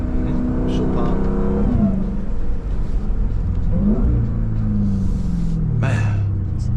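A 2025 Dodge Durango Hellcat's 710 hp engine revs hard with crackling exhaust pops, a loud, dense rumble rising and falling across several revs while voices talk over it from inside the car.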